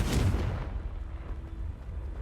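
A Confringo fire spell bursts in the Hogwarts Legacy video game, a single deep booming blast at the start that quickly fades into a low rumbling tail.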